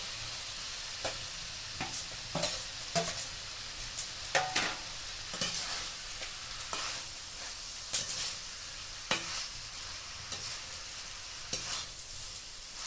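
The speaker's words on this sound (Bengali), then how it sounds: "এবার মশলার সাথে চিংড়ি মাছ আর ঢেঁড়স দিয়ে ভালোভাবে নেড়ে নিচ্ছি।" Shrimp and slit okra hiss and fry in a cooked-down spice paste in a pan, steady sizzling close by, broken by repeated scraping stirs of a spatula, no voices.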